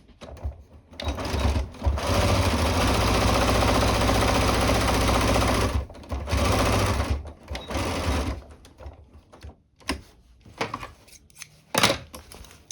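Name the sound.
sewing machine stitching plastic boning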